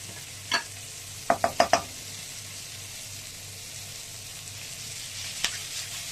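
Ginger garlic paste frying for a chicken fry, as a faint steady sizzle with a quick run of four sharp knocks of the spoon against the pan and a couple of isolated taps.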